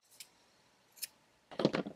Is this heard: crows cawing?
no